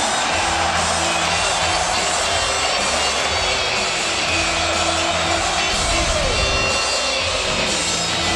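Basketball crowd at the Schottenstein Center during a Duke versus Ohio State college game, a dense continuous roar of cheering arena fans, loud and sustained throughout.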